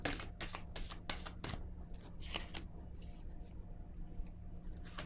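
Tarot-style cards being handled and laid down on a table during a card reading, a flurry of soft flicking slaps and shuffling rustles, close and fairly quiet.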